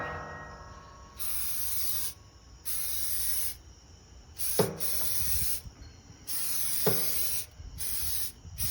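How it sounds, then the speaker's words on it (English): Repeated bursts of oil spray onto a wood-fired smoker, each hissing for about a second, with short pauses between and a couple of faint metallic clanks. "Spray everything down nice. Get a nice little coating all the way around."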